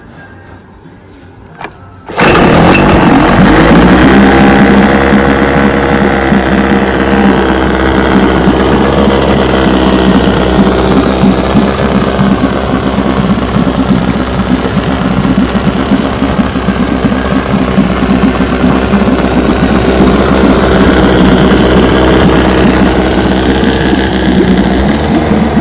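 A rebuilt 1968 Johnson 9.5 HP outboard engine starts in a test barrel after a quiet moment, then runs at a loud, steady, close idle with a throbbing low drone for the rest of the time. No talking.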